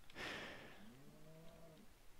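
Cows lowing in Minecraft, two overlapping drawn-out game moos, one of them rising and falling, following a brief soft rustle, fairly close and clear with no talking.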